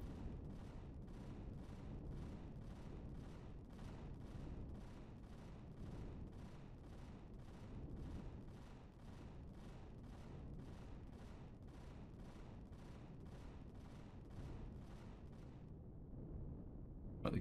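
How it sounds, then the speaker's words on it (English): Ship guns firing in the space game Empyrion Galactic Survival, a long steady barrage of rapid, evenly spaced shots over a low rumble that suddenly stops near the end. "the guns have stopped firing"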